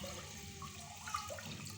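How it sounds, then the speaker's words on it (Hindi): Water poured over masoor lentils in a cooking pot, a steady continuous rushing pour running the whole moment at moderate level with no talk. "ये ऊपर से पानी डाल दिया"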